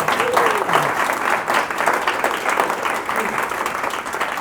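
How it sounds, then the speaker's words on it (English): Audience applause for a guest expert after a talk on dealing with difficult people, a dense steady clapping that stays loud throughout, with faint voices mixed underneath. "Let's give a round of applause for Dr."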